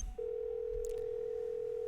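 A steady telephone dial tone in the Nancy Drew: Warnings at Waverly Academy video game starts after a brief click and holds unbroken and clear. No one speaks.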